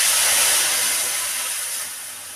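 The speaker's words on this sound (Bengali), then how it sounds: "সর্ষে পোস্তর মিশ্রণটা দিয়ে দিয়েছি।" Mustard and poppy seed paste poured into a hot pan for hilsa fish curry, giving a loud broad hiss and sizzle that slowly fades over a couple of seconds, with no talk.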